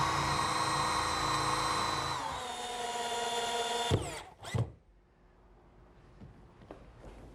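A power drill drives screws into the center cleat of a wooden picnic table, a sustained whining motor that dips in pitch as a screw seats, then stops, followed by a couple of sharp knocks and faint handling noise.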